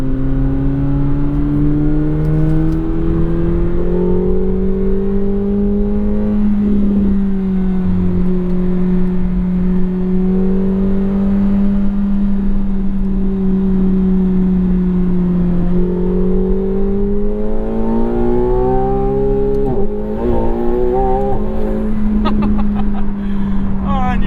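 McLaren 750S twin-turbo sports car cruising on dry roads, a steady loud engine drone that rises and falls in pitch with shifts and throttle over the whole stretch, with a speaking voice over it.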